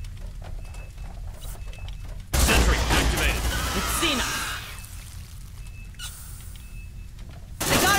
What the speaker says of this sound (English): Deploying sentry gun! Sentry almost ready.